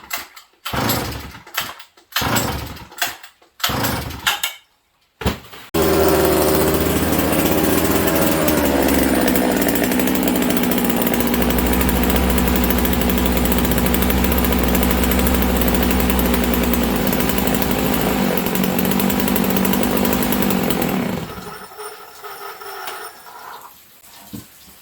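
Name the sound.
Sachs Dolmar 153 100cc chainsaw engine running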